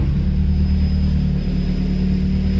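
A car engine run by a rusEFI ECU idles rich in a steady, low, droning rumble, loud and close with an even tone and no talking.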